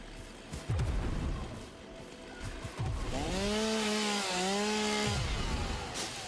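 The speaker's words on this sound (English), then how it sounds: "Too bad the chainsaw doesn't actually do any damage." Chainsaw cutting in the game Satisfactory, a loud, steady whining engine buzz that rises and holds with a bending pitch across the last few seconds, over a rough noisy backdrop.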